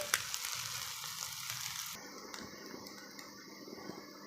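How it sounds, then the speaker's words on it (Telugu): Noodles with chicken and egg are tossed in a pan over high heat, giving a steady close sizzle that shifts abruptly partway through, with scraping and stirring over it. "అలాగే మనం హైలో పెట్టుకొని టాస్ చేసుకోవాలి ఈ నూడిల్స్ని"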